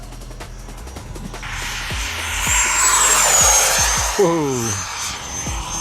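A radio-controlled jet takes off at an RC jet event in Central Florida, its turbine whine rising into a loud rushing roar as it passes close, with a sharp whistle overhead and a brief exclamation from a voice nearby.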